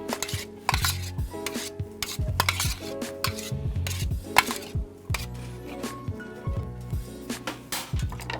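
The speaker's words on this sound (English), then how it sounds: "Just stir that in nicely." Stirring salt into a soy sauce mixture in a bowl during a cooking demonstration, a steady rhythmic scraping and clinking of a utensil against the dish, close and continuous.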